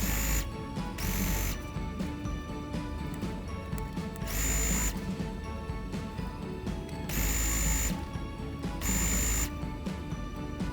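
A sewing machine stitches a side seam on a Simplicity 3514 garment, its fast mechanical whir running steadily throughout, broken by several brief bright bursts as the fabric is fed through.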